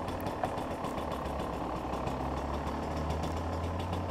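An old EC 250 motorcycle engine, a two-stroke gas bike on a Curitiba street, runs steadily close by, a continuous low rumbling drone with slight throttle swells throughout and no voices.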